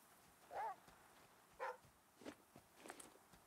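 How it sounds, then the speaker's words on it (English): Dog barking in the survival video game The Flame in the Flood, a few short separate barks spaced across a few seconds at moderate distance, with no talking. "Barking."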